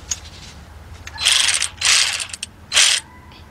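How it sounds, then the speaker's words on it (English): Cordless ratchet with a 17 mm socket on a 2007–2017 Jeep Patriot during transmission removal, three short whirring bursts close up, with quieter clicks between them. "Get your cordless ratchet."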